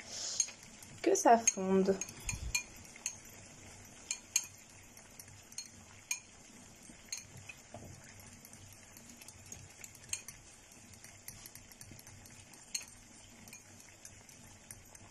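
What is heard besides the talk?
stirring a melting cosmetic cream mixture with a utensil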